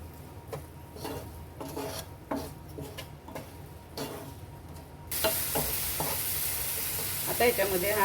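Quiet stirring and clicks in a pan give way to a sudden loud, hissing sizzle as a chopped tomato hits the hot oil while cooking colocasia leaf vadi. The frying then continues steadily and close, with no voices.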